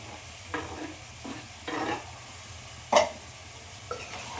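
A spoon stirs chopped tomatoes into chicken curry in a pot with a few scraping strokes over a faint sizzle. One sharp clink of metal on metal stands out near the middle.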